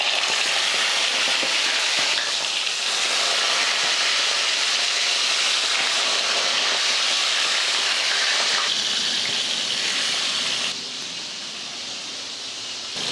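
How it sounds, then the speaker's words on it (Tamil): Marinated chicken pieces deep fry in hot oil in a kadai with a loud, steady broadband hiss and bubbling that continues unbroken and eases slightly toward the end. "இப்போ எண்ணெயில் போட்டு பொரிச்சு எடுத்துக்கலாம்"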